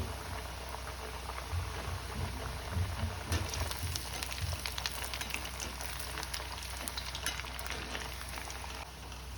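Wheat flour muthia balls fry gently in oil in a pan over a low flame, a steady soft sizzle with a few faint clinks, close by and unbroken.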